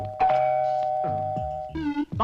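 A doorbell rings with a two-note ding-dong chime, then a second brighter ring follows, clear and close in a house in a Hindi comedy film.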